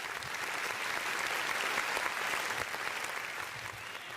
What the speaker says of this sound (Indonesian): boleh saya minta tepuk tangan secara virtual terlebih dahulu